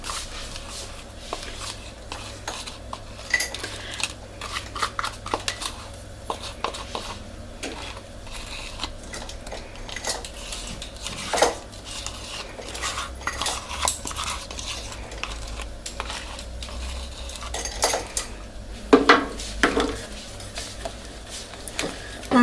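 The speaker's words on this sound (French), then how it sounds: "On mélange et on fait bien tout dissoudre dedans." Praline being stirred into hot cream in a pot, with soft scraping and clinking of a utensil against the pan in irregular strokes, fairly quiet and without speech.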